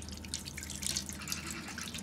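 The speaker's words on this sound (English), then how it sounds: "So what you do is you pour your solution" Dye solution is poured into a tray while crafting: a quiet, trickling run of liquid with light splashes and drips, close by and alone.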